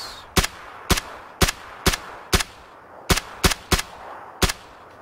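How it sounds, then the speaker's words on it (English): Gunfire in PUBG, a battle royale shooter, rings out as sharp single shots, about nine evenly spaced cracks over five seconds with a short pause midway, fairly loud over quiet ambience and no talk. "taking shots"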